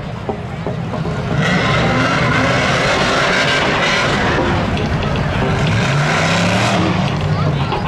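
Race cars roar around Seekonk Speedway during a Labor Day thrill show, a steady loud engine drone with passing surges and rising whine, crowd and announcer voices mixed underneath.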